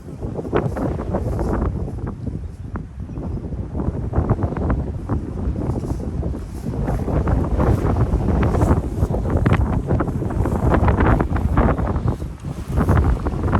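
High wind buffets the microphone at a cow pasture apiary, with loud gusty rushing and rustling that rises and falls throughout. Nobody speaks.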